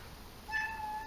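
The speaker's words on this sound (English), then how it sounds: "Look at this monster cat my wife has." A large domestic cat gives one short, thin meow, close and fairly clear against a quiet room.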